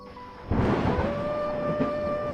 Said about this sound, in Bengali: হঠাৎ করে একটা বজ্রপাত পড়ল বিকট শব্দে